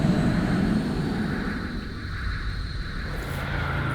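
An aircraft being shot down in PowerWash Simulator, heard as a steady, loud jet-engine roar that swells and sustains without pause.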